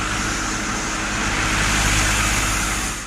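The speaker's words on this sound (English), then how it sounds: "This is the sound of a good fan." An electric fan whirring, a steady broadband whooshing hum, constant and fairly loud, with no pauses or voices over it.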